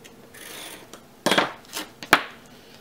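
A strip of duct tape is trimmed while making a wallet, with soft rustling and handling followed by a few sharp, crisp snips or rips, close and fairly quiet.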